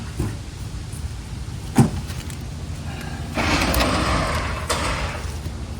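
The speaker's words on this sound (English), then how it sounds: "There we go, remove the door." A door comes off a vintage car in a garage, with a sharp knock and then a sustained scraping, grinding stretch of metal mechanism, loud and close, and no voices.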